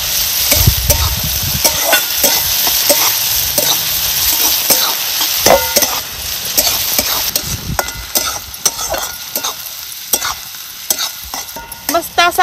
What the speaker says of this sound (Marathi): लाल रंग होतोपर्यंत आहे ना आपल्याला कांदा मस्त असा भाजून घ्यायचा आहे.